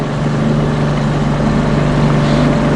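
Motorboat engine running on a lake, a loud, close, unbroken drone with a steady low hum and no talk over it.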